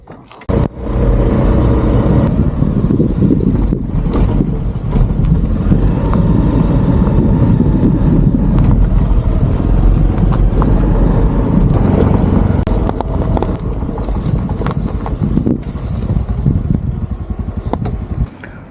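A scooter ridden along a road near Munda Pahar, its engine droning steadily and close to the microphone after a brief start, with wind rush and small bumps over the ride.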